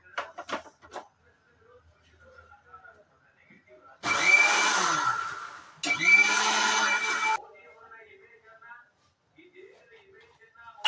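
A kitchen mixer grinder running with chili powder roars in two loud bursts of about two seconds each, with a short gap between them, while someone talks before, between and after the bursts.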